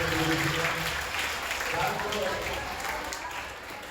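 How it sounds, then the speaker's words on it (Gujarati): Loud applause from an audience at a school event, a dense crowd of clapping that starts strong and slowly tapers off. "જોરદાર તાળીઓ ઘણી"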